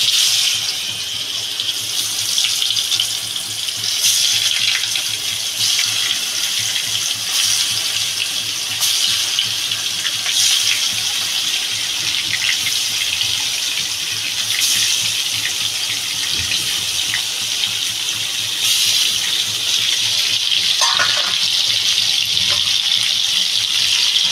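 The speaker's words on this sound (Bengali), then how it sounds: "মাছটা লাল লাল করে ভাজতে হবে ভালো করে। মাছটা দিয়ে দেবো।" Turmeric- and salt-rubbed fish fries in hot oil, giving a loud, continuous bright hiss with scattered crackles and pops throughout.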